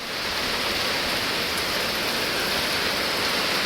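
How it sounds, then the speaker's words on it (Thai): Heavy rain pours steadily onto a leaking roof at home, a dense, even hiss of close rainfall that stays loud and unbroken throughout with no voices. "ฝนตกหนัก"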